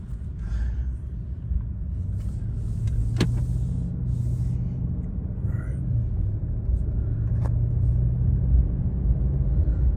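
A 2013-2020 Mercedes S550 W222 sedan driving after a transmission fluid top-off, with a steady low engine and road rumble from the cabin as it shifts gears, and a faint click or two.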